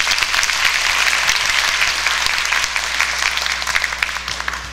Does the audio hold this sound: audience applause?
yes